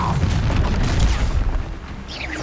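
In Hogwarts Legacy combat, a Confringo spell sets off heavy booming blasts. Deep rumbling bursts fill the first moments, then fade into a lower, softer rumble.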